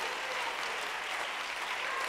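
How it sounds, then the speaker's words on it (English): Church congregation clapping their hands together in a steady, dense wash of applause that fills the whole moment, fairly close and loud, with no voices standing out above it. "Clap your hands to him."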